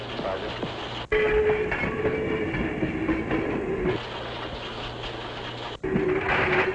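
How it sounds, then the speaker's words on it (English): A CNR train pulls out for the main line, rumbling steadily on the tracks with low mechanical drone and rattling, shifting in tone with a few abrupt cuts. "a train as it pulls out for the main line"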